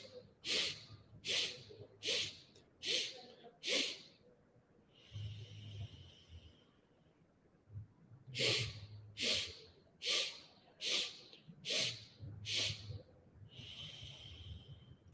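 Deep yogic breathing with rapid, forceful nasal exhales in quick bursts of five or six, separated by slower, softer breaths, close and fairly quiet with no talking.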